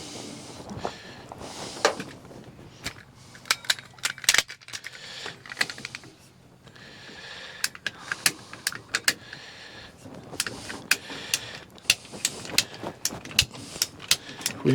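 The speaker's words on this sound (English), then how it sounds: "I'm going to cut off a little bit of that elbow, because we don't need it all." A cable channel rail elbow being cut, a run of sharp irregular snipping and clicking sounds over a quiet background, some close and crisp, scattered across the whole stretch.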